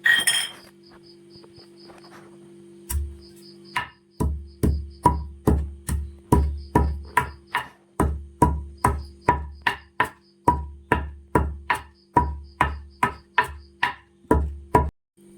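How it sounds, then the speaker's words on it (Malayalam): Steady rhythmic pounding of cardamom and cumin in a mortar, roughly twenty sharp thuds at an even pace after a short quiet start, close and loud. "ഏലക്കയും ജീരകവും കൂടി ഒന്ന് ഒരലിൽ ഇടിച്ചെടുക്കാം"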